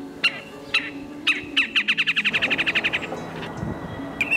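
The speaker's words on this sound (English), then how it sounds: "I can play different calls to bring in birds." Birds calling in Central Park, New York: a rapid series of about fifteen bright, clear chirps in a steady accelerating rhythm, preceded by a few separate calls, with other faint tweets and a low background hum.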